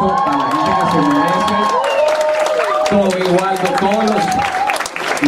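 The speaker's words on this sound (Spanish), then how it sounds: "Por favor, un aplauso para la gente que se merece." A concert crowd gives loud, dense applause mixed with cheering, whoops and sustained shouted or sung voices, continuous and close throughout.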